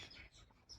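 A few short, faint bird chirps outdoors in a rural Gujarati village setting, brief high tweets over a quiet background.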